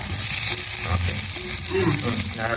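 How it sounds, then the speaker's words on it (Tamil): Onion and green chili sautéing in a hot pan for a potato stir-fry, a loud, close, continuous sizzle with stirring scrapes running through the short stretch, no voices. "இது வெங்காயம் பச்சை மிளகாய் வதங்கட்டும்"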